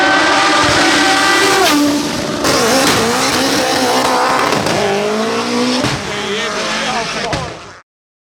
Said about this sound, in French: C'est ces détonations que l'on entend à chaque passage de vitesse sur certains véhicules.